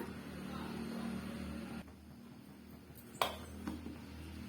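A lid goes onto a container of wheat flour dough, a single short sharp click near the end, followed by a softer tap, over a faint steady room hum.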